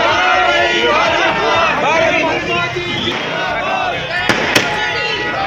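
Fireworks crackle and pop at an outdoor celebration by party workers in Mussoorie, with a couple of sharp bursts standing out over steady crowd chatter and babble.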